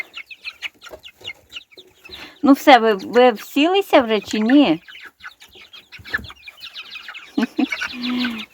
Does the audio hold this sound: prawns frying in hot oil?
no